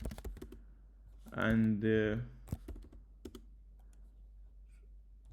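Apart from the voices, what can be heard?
typing on a computer keyboard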